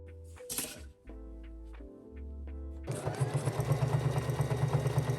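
Sewing machine stitching fabric for a strappy tube top: after a few brief starts and stops, a rapid, steady mechanical chatter of stitching runs close and fairly loud to the end.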